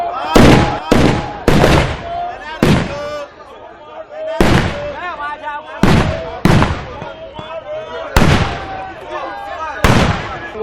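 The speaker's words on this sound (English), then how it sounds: "48 gunshots, known as Mponala in local parlance," A series of sharp, loud celebratory gunshots goes off at irregular intervals outdoors at night, each crack ringing out with a short echo, while voices and background noise carry on between shots.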